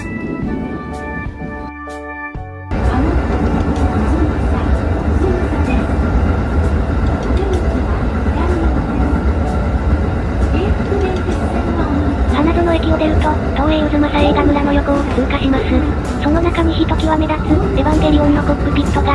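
A JR train passes through a station near Kyoto, its rumbling wheels and motor building suddenly into a loud, continuous roar with rhythmic rail clicks. A voice speaks under the rushing noise.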